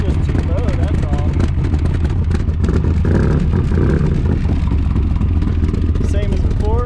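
1982 Camaro engine idling and rumbling through its newly completed exhaust, a loud, steady low throb heard close by with someone talking over it at times.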